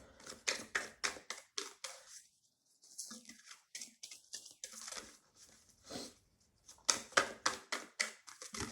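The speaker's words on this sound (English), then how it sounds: "This deck is so huge, it's so hard to shuffle." Rapid riffling taps of a large tarot deck being shuffled in quick bursts, pausing briefly, then resuming in fast repeated flurries close by.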